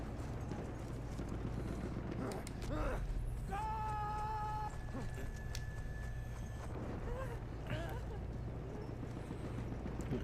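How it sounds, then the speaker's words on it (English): Horse hooves clip-clop at a steady galloping rhythm in the World War I shooter Battlefield 1, running under game sounds and someone talking, with a brief tonal game cue in the middle. "we got a horse going"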